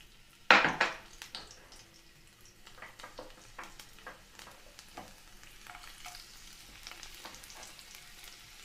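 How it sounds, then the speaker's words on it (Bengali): Chopped garlic goes into hot oil for bread manchurian, giving a sudden loud sizzle that settles into a steady close crackle of frying, with light stirring and no talking. "তেলটা গরম হবে এরপর আমরা এতে দেব যে রসুন কুচিয়ে রেখেছিলাম সেটা আমরা দিয়ে দিচ্ছি"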